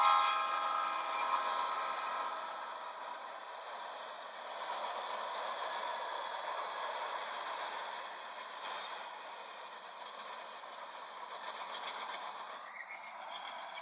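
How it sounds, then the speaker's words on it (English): A train in Dog River, Saskatchewan rolls past with a long continuous rumble and metallic squeal and rattle of cars, steady and fairly loud, tapering near the end without voices. "If you guessed train, you're right"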